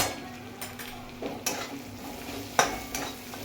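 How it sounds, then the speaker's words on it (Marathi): Spices for drumstick bhaji stir-fried in a pan: a faint steady sizzle broken by several sharp scraping strokes of a spoon against the metal, close and fairly quiet. "हे सगळं फ्राय करून घ्यायचं. 1 मिनिटभर परतून घ्यायचं आहे."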